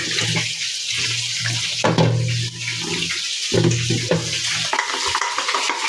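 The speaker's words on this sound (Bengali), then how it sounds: "ঢাকনাটা ধুয়ে দিব।" Running tap water splashes over a pot lid being rinsed at a kitchen sink, a steady close wash with clattering handling and a low hum throughout.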